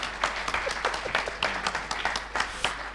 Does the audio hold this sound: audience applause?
yes